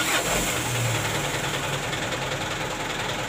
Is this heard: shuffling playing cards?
no